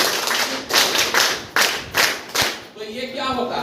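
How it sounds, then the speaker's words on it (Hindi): An audience at an alumni meet program claps in strong, rhythmic bursts, several loud waves of applause from a hall crowd that rise and fall in step before trailing off. "तो ये इनके लिए एक जोरदार ताली होनी चाहिए आप लोग के।"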